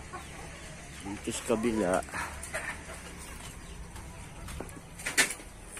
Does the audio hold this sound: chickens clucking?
yes